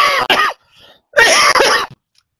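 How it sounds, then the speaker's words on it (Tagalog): A person coughs and clears their throat in a few harsh, close bursts separated by short pauses, after chilly swimming-pool water. "Pero inuubo ako guys."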